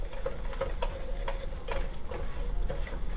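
Roux of flour and butter cooking over medium-low heat in a pan for a horseradish cream sauce, giving a soft continuous sizzle with rhythmic stirring scrapes close by and no talking.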